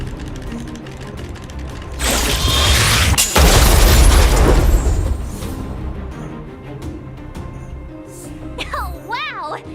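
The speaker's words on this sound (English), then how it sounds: "We wiped them all out in a single explosion!" A video game explosion erupts as a loud sustained boom with crackling debris and rumbling, fading into mechanical clanks and game sound effects, with a voice speaking around it.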